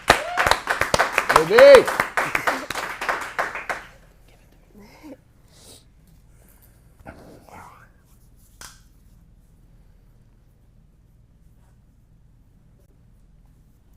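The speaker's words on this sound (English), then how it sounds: "Let's give her a round of applause." Short burst of audience applause for an actor in an acting-studio scene class, dense clapping that stops after a few seconds, then near silence with a voice calling out a name.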